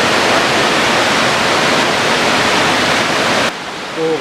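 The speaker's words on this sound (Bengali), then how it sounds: "প্রচণ্ড জলের ঝাপটা উঠছে" Tirathgarh waterfall in Kanger Valley National Park pours down with a loud, steady roar of crashing water, nearby and unbroken, easing slightly near the end.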